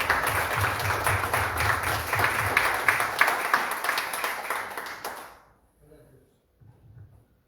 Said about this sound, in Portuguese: uma salva de palmas para Jesus pela divulgação